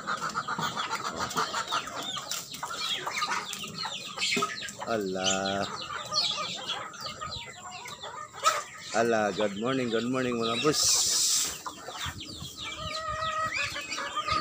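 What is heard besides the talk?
chickens clucking and crowing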